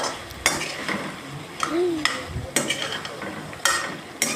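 Mixed vegetables for an Assamese-style labra are stirred with a spatula in an uncovered pan over a high flame, giving sharp utensil scrapes and clinks at irregular intervals over a soft bubbling background, with no talking.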